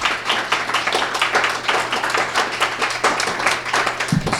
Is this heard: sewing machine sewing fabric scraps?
no